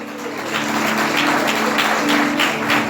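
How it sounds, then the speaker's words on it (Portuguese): A church congregation applauds for Jesus in a dense, loud wash of clapping that runs steadily throughout, with a sustained tonal hum underneath. "Então uma salva de palmas para Jesus aí."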